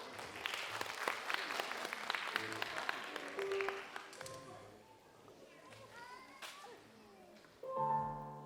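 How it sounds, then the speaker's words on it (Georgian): An audience at a New Year concert applauds, a dense burst of clapping that thins and fades after a few seconds, followed by quieter room sounds and some faint voices. "აპლოდისმენტები გთხოვთ."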